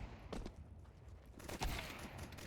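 Gunfire in a competitive shooter video game: several bursts of shots, a couple of louder close cracks around the middle, over a steady game background.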